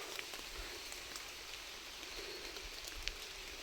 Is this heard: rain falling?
yes